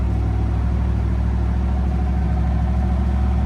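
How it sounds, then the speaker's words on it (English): A car engine idles on a hot day while being prepped for Summernats 36, giving a steady, loud, close low rumble with an even pulse and no change in revs. "The block, it's been idling now for about 25 minutes."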